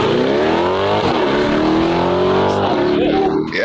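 A car engine on its factory exhaust roars loudly and continuously, its pitch climbing and dipping as it revs, with people talking over it throughout.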